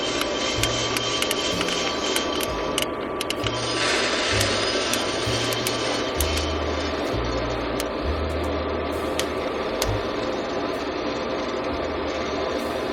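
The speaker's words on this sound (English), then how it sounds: "after I press discharge, the machine basically starts cooling itself" A Rubasse digital coffee roaster runs its cooling cycle after discharge, giving a steady whirring fan drone with irregular rattling, clunking pulses from the beans and drum, moderately loud and close, with no talking.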